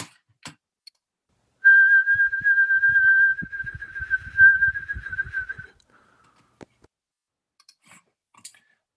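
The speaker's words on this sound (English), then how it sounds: "And here's an example of me trying to whistle." A musician with a chronic movement condition attempts to whistle, producing a steady, slightly wavering whistled tone for about four seconds, mixed with clicky mouth noises. Near and fairly loud, then a few scattered clicks in otherwise quiet surroundings.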